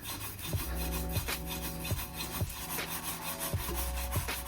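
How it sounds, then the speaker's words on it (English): A wheel brush scrapes the inside of a car exhaust pipe in steady back-and-forth strokes, a harsh rasping rhythm with a metallic ring, close and loud, with no talking. "I'm just going to scrape the inside as much as I can"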